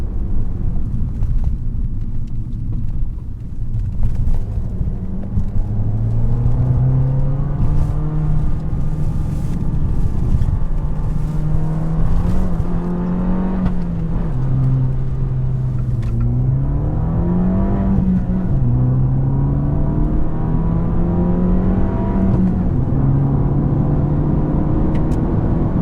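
2019 Fiat 500 Abarth on the move, its small engine loud and raspy from the cabin as revs climb, drop at gear changes and climb again in repeated pulls.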